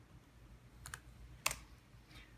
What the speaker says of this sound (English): We're just going to type new user.